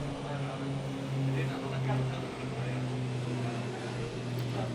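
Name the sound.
airplane flying overhead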